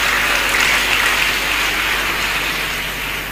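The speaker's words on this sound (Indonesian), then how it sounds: "Tepuk tangan untuk beliau." A seated audience applauds a police general at a religious talk, thick continuous clapping that sounds almost like heavy rain, steady and loud before tapering slightly at the end.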